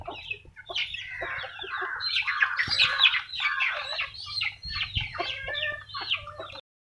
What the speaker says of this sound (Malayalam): നമുക്ക് ഈ കുട്ടിയിലുള്ള കോഴികളാണ് തുറന്നു വിടാനുള്ളത്